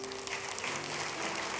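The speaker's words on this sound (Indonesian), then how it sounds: "Berikan tepuk tangan untuk Tuhan" Brief, fairly faint congregation applause in a church, a soft spread of many hands clapping with a faint sustained tone underneath.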